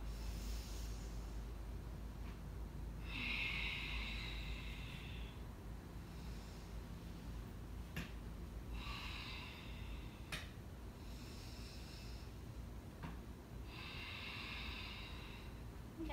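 Slow, paced breathing during a yoga exercise, faint airy inhales and exhales repeating every few seconds in a quiet room, soft and close with no talking.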